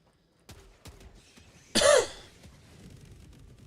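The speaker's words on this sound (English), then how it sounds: "I'm sorry if I'm coughing in your guys' ears." A single harsh cough bursts out loud and close, following a few faint clicks and light throat sounds in an otherwise quiet room.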